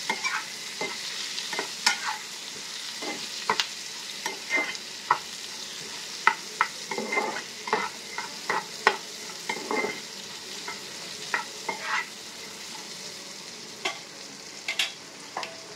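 Onion and green chilli fry in a pan with a soft, steady sizzle while a spatula scrapes and knocks against the metal in frequent irregular strokes, close up and with no talking.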